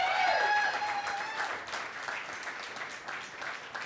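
Audience applause at an evening pitch event, a dense wash of clapping that starts loud with a few whistles and tapers slightly over a few seconds, with no talking.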